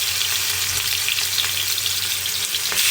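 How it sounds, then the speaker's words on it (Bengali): Hilsa fish fry in hot oil in a wok with a loud, constant sizzle and crackle that never lets up, close and dense, with no talk. "এইদিকে ইলিশ মাছগুলোকে দিয়ে দিচ্ছি কড়াইতে"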